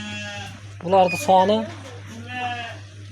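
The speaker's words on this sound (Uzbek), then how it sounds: "Mana birinchi partiyani qo'ylari" Sheep with white faces and white ears, in a flock of 73, bleat close by: a drawn-out wavering bleat in the middle, framed by softer bleats before and after.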